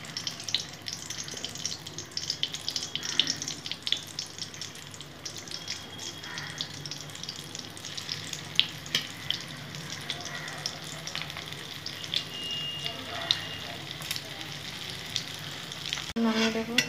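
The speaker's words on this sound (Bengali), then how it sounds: "এখন আমি বড়া ভেজে নেব" Spiced fish-oil pakoda fritters deep fry in a pan, a steady bubbling sizzle at moderate level with crackling pops and occasional stirring scrapes throughout.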